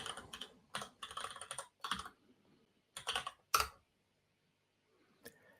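A password is typed on a computer keyboard in several short, close bursts of rapid key clicks separated by pauses, ending with one isolated keystroke and no talking.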